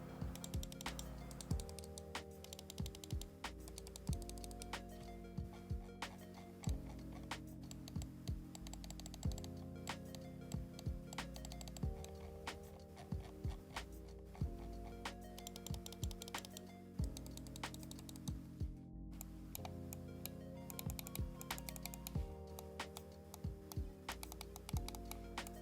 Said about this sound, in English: I'm gonna give you some click sound